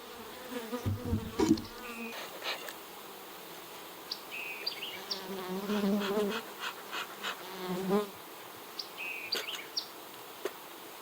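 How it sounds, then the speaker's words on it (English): Honey bees buzz around an open beehive during a summer honey harvest, a steady close drone with individual bees whirring past loudly at intervals and a few faint bird chirps in the background. "when I can hear the bees really loud, sometimes it gets me a little nervous"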